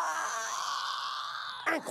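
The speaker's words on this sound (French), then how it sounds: "tu bailles aussi fort que tu ronfles" A long, loud, drawn-out yawn from a cartoon character, gliding slowly in pitch and ending with a short grunt.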